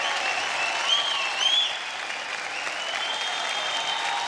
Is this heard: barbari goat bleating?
no